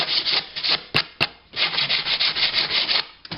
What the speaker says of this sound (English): let's give it a wee rub down there.